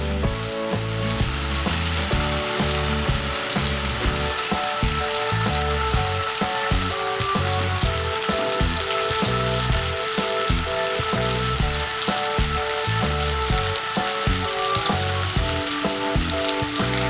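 Potatoes fry in a pan for chicken chana masala with a loud, steady sizzle, while a spoon stirs and scrapes in quick, regular strokes throughout.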